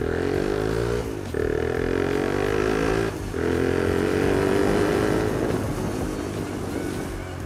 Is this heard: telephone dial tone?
no